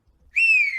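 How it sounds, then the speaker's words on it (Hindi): A single sustained whistle, loud and close, rising briefly and then holding a steady tone for about half a second before tailing off slightly. "सीटियों की दुकान फिर से शुरू हो गई तू?"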